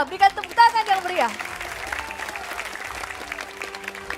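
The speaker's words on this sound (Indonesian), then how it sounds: "Berikan tepuk tangan yang meriah." Audience applause at a 2024 public debate for district head and deputy candidates in North Halmahera, North Maluku, rising after a host's announcement and continuing as a steady, moderately loud clatter, with a voice speaking over the opening.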